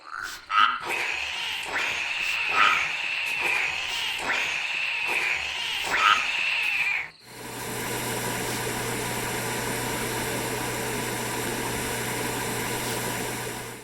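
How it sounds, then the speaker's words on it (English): Croaking frogs in the Loveland demo video game, a run of rhythmic warbling calls over night ambience, then an abrupt switch to a steady buzzing drone like dense insect chirring with a low hum. "letting the eerie symphony of crickets and ribbits speak for themselves"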